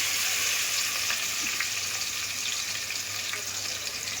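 Mint paste frying in hot oil in a cooking pot for veg biryani gives a steady, close, moderately loud sizzle with faint crackles throughout, with no one talking.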